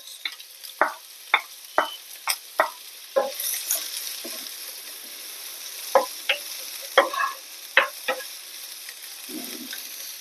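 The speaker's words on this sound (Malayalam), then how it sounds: "നെയ്യോടെ ചൂടായിട്ട് ഇത് നമ്മൾക്ക് അരിഞ്ഞു വെച്ചിരിക്കുന്ന സവാള ഇതിലേക്ക് ചേർക്കാം" Chopped onions frying in ghee in a pot, giving a low crackling sizzle under a series of sharp spoon stirs and clinks against the pot, close and moderately loud.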